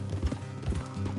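Horse hooves clip-clop at a steady walking rhythm in Red Dead Redemption 2, the rider's mount moving along an off-road trail, with a low rumble beneath and the beats fairly close and moderate in volume.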